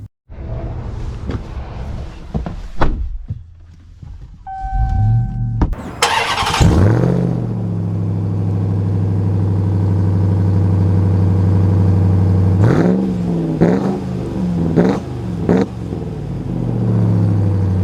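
A 2024 Ram TRX pickup truck cranks and fires up after a few clicks and clunks, settles into a deep, steady idle rumble, then gives several sharp throttle blips close by.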